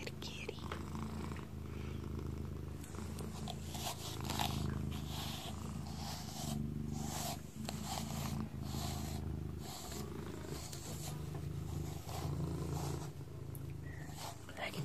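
A soft, continuous rumbling purr in a cat grooming roleplay, steady and close with gentle pulsing, under quiet, soft-spoken talk.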